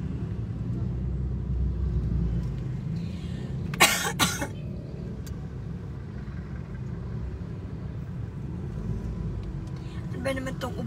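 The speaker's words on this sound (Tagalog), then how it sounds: "Ano ba naman tong ubo na to?" Someone coughs in a short burst of two or three harsh coughs and coughs again near the end, inside a car with a constant engine and road rumble in traffic.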